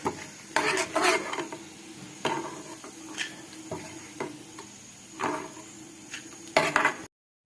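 Seeds being dry-roasted and stirred in a pan while making payasam, with intermittent scraping and clinking strokes of a spatula against metal, fairly close, with quiet gaps between the stirs and no talking.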